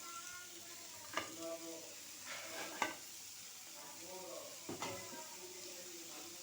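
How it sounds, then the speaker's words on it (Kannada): Coriander leaves frying in a pan for fish sambar make a soft, continuous sizzle, with a few sharper scraping stirs standing out now and then. "ಆ ಕೊತ್ತಂಬರಿನೂ ಕೂಡ ನಾವು ಹಾಕ್ಕೊಂಡು ಹುರ್ಕೋಬೇಕು"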